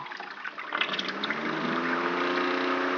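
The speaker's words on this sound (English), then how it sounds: "After that, fan is off and water pump is on." Water pump running inside a smart water cooler with PWM-controlled fan, a steady trickling, liquid-filling hum that starts soft and grows into a constant close flow, with no voices.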